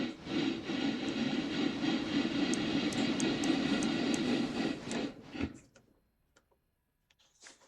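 A locomotive engine in the Railroader train game throttles up at a sawmill, a loud steady rumbling drone with faint ticking above it that cuts off abruptly after about five seconds, leaving near silence with a few soft clicks.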